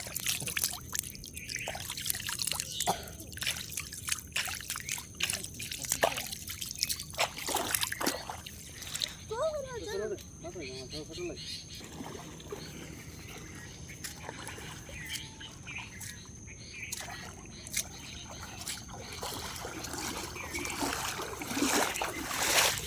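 Floodwater rushing in a strong current, a steady broad wash with scattered splashes and occasional bird calls, heard from nearby with a voice speaking faintly at times.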